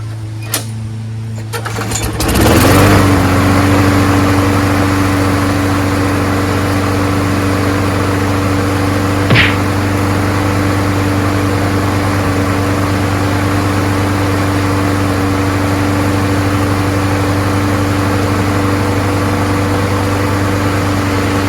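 A Craftsman 6.5HP Briggs Quantum push lawnmower fitted with a swapped carburetor fires up and settles into a loud, steady, even drone that runs close by for about twenty seconds.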